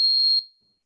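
A loud, steady high-pitched electronic alarm tone from a homemade alarm device built by young inventors sounds for under half a second, then cuts off and fades, alone without talk.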